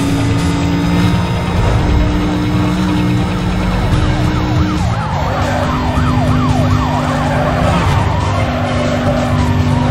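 Police siren in the racing video game Need for Speed Most Wanted (2005), a loud wailing siren sweeping up and down over constant engine roar and tire noise, with overlapping sirens from several pursuing cars.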